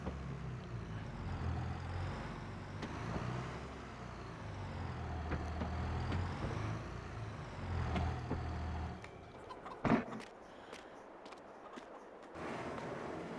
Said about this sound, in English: I better go and get Grandpa's tractor as well.